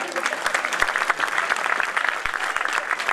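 A poetry recital audience gives steady, dense clapping that carries evenly for a few seconds, fairly close and lively.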